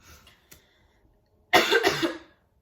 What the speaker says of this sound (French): je vais beaucoup tousser